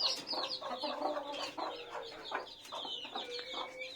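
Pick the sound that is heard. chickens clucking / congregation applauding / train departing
chickens clucking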